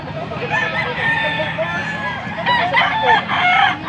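Young roosters (stags) at a market crow repeatedly, several harsh cock-a-doodle calls overlapping near the microphone, with clucking in between.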